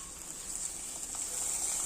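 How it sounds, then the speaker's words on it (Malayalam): A steady, bright sizzle of mustard seeds spluttering in hot oil, with a few faint crackles and pops scattered through it, close and continuous. "അപ്പോൾ നമുക്ക് ഇനി കടുക് പൊട്ടിച്ചിടാം."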